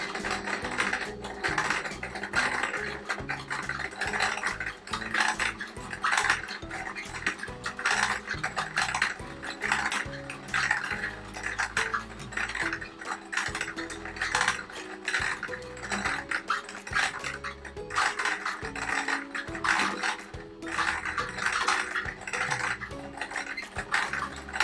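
A sewing machine stitches grey thread around a fabric appliqué on a patchwork quilt, a rapid, steady mechanical clatter that runs in short bursts with brief pauses, close and fairly quiet.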